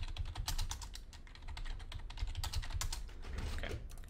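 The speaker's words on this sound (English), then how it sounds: "I get really slow when I type" Fast typing on a computer keyboard during CS:GO recording, close and fairly quiet, a continuous stream of uneven key clicks with no voices.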